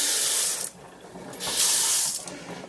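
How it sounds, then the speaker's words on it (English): Kitchen sink faucet runs in bursts, with water splashing into the basin loud and close, stopping briefly and starting again in an empty home. "Faucet's still working good."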